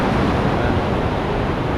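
Big, dangerous ocean waves surge and break near a fishing spot, a continuous heavy roar of surf mixed with wind buffeting the microphone, loud and close throughout.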